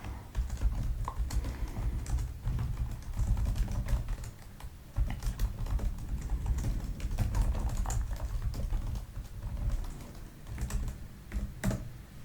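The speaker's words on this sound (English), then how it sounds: "So I can type faster." Steady, soft typing on a computer keyboard runs the whole time, a continuous patter of light key taps with a few slightly sharper clicks, close up and quiet, no talking.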